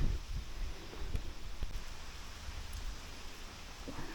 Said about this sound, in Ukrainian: Вітер з дощом.